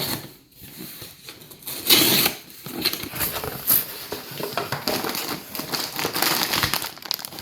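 A delivered parcel being unwrapped at home, its packaging crinkling and rustling in close, uneven bursts, with a few louder tearing crackles partway through.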